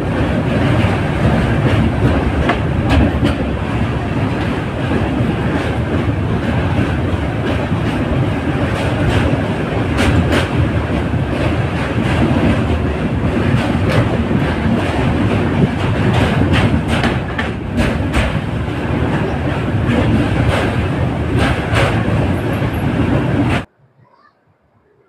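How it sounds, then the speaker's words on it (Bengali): The 13151 Jammu Tawi Express at Pandit Deen Dayal Upadhyay station, a loud, close rumble with rhythmic wheel clatter held for over twenty seconds before cutting off abruptly. "আর এদিকে এসছে হচ্ছে আমাদের ট্রেন"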